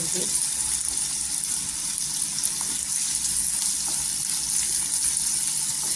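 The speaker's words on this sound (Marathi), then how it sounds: "इथे मोठे 2 कांदे कट केलेले आहेत आणि कांदा पण छान असा गुलाबी कलर करून घ्यायचा" Two large chopped onions with cumin frying in oil in a pan until pink, giving a steady, even sizzle throughout.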